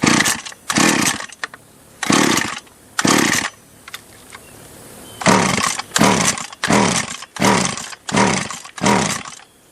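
An old top-handle chainsaw from the late 1970s or 80s, needing a carb kit, is heard close up in loud revving bursts of about a second each, with short idle gaps between them and a quicker run of bursts near the end.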